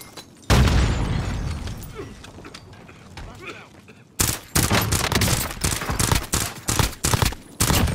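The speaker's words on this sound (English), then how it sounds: "Airstrike." Heavy blasts from an airstrike in Call of Duty Warzone on Rebirth Island, a loud boom then a rapid string of close explosions and gunfire-like bursts, with voices under the din.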